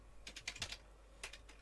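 Quiet typing on a computer keyboard while playing Infinite Craft: a quick burst of several clicks, then a pause and a second short cluster of keystrokes, with no talking.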